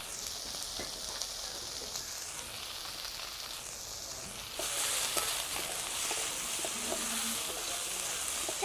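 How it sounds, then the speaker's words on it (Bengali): Potatoes and eggplant fry in a covered pan with salt and turmeric, giving a steady, fairly quiet sizzle that grows louder and denser partway through, with occasional faint stirring clicks and no talking. "আলু বেগুনটাকে ঢাকা দিয়ে দিয়ে ভালো করে ভেজে নেব"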